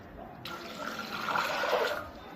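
Tap water pours steadily into a pressure cooker holding dried kidney beans (rajma), a close hissing stream that starts abruptly and gradually deepens as the vessel fills, with no talking.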